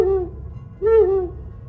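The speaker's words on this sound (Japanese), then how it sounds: "鳥の声が溢れ出た。" Two eerie bird calls, owl-like hoots with a wavering tonal pitch, used as a sound effect in a Japanese horror story, separated by a brief pause over a low hum.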